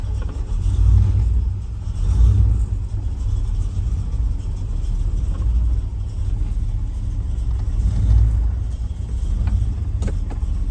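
Car engine idling, a steady low rumble with gentle periodic swells in loudness, close and continuous throughout with no talking.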